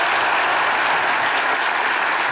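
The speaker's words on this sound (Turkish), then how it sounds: "Alkışlar Meri'ye gelsin." Studio audience applauding a guest on a Turkish comedy show, a dense, steady wash of many hands clapping close and loud for the whole stretch, with no voices over it.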